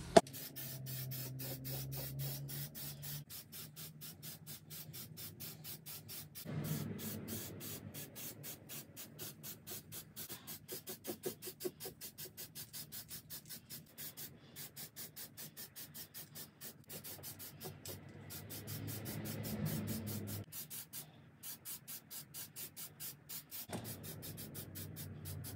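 Spray finish being applied to the top of a piece as its first coat, a steady hissing spray in repeated bursts with short pauses between passes, fairly quiet and close, with no talking.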